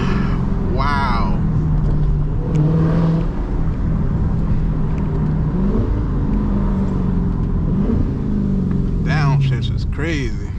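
Dodge SRT 392 fitted with a Borla ATAK exhaust, a deep, loud rumble under constant close cabin noise, with revs climbing and dropping through downshifts in a tunnel, and someone talking over it.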